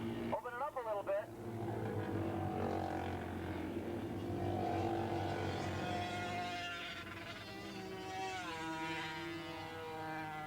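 A 1987 Kawasaki Ninja 305cc racing motorcycle accelerates down the back straightaway at Willow Springs International Raceway. Its faint, distant engine whine rises in pitch beneath a commentator's continuous voice.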